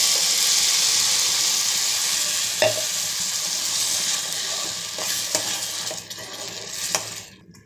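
Blended tomato puree hits frying onions in a pan for tomato gojju, producing a loud, steady sizzle that gradually eases, with a few stirring scrapes and clinks near the end.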